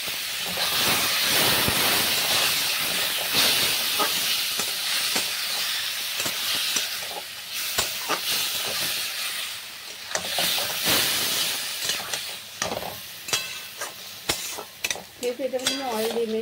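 Chicken goes into a pan with a little ghee and crushed ginger and garlic, bringing a close, hissing sizzle with irregular stirring scrapes and clatters that swell and fade over the stretch.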